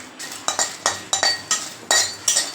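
Garlic and red chillies dry roasting in a kadai without oil, stirred with a metal spoon that clinks and scrapes against the pan in about eight sharp, evenly spaced strokes, close and clear with no talking.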